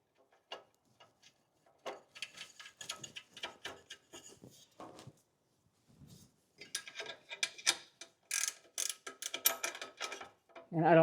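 Ratchet tightening copper-coated lock nuts onto long studs of a MagnaFlow catalytic converter on an 80 Series Land Cruiser: irregular bursts of rapid close clicking with pauses between, busier toward the end.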